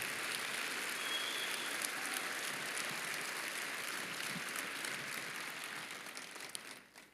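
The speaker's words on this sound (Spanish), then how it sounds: "Dale un aplauso a Dios, dale el aplauso." Church congregation applauding to God, a faint, distant, steady patter of many hands sustained for several seconds before fading out at the end.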